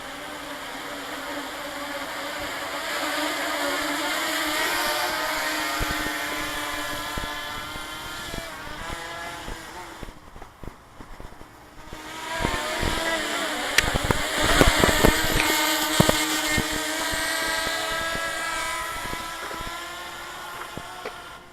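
Buzzing multirotor drone with freshly changed props on a test flight, a steady insect-like whine with a brief drop in the middle before the motors surge louder again, close and continuous.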